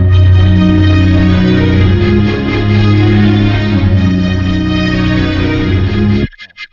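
A full string section with double bass and cellos giving body underneath, sustaining a dense, warm chord progression for about six seconds before cutting off cleanly, no voices.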